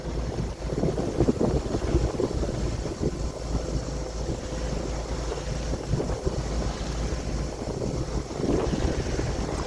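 Wind buffets a sailboat out at sea, a steady rushing roar with gusty swells and microphone buffeting, water sloshing beneath, no voices.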